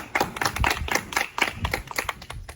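Audience applause at a school science quiz, a dense burst of close, rapid clapping that continues throughout.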